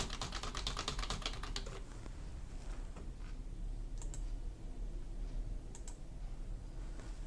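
Rapid typing on a computer keyboard in MS Word, a dense run of close, light key clicks at first, thinning to a few scattered taps over low room hum.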